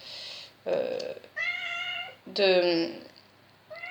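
A cat meows indoors while rain falls outside, giving two or three drawn-out, tonal cries close to the microphone, with someone talking in between.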